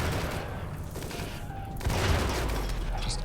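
Inferno cannons fire nonstop in a RimWorld battle against a large Scyther attack, making a dense, loud barrage of booming blasts and crackling bursts that swells louder partway through.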